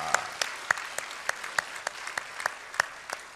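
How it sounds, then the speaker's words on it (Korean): Scattered clapping from a small congregation welcoming newcomers at a Sunday church service, a handful of distinct, fairly soft claps in a loose rhythm without voices. "박수로 환영합니다."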